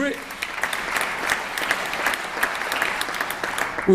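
An audience applauds during a governor's State of the State address, sustained clapping that fills the whole stretch, with a voice starting up right at the end.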